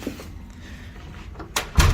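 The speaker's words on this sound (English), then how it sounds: "the door is locked" A door swings shut with a solid thump near the end, preceded by sharp latch and lock clicks, close and loud against a quiet room.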